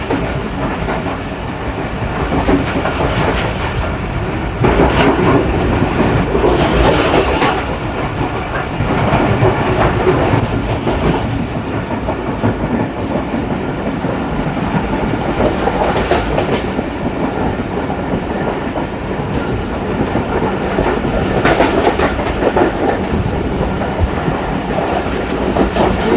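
Inside a coach of the Pakistan Express, the train runs with a loud, steady rumble and rhythmic clickety-clack of wheels on rail joints, plus a constant hiss, sustained throughout with no talking.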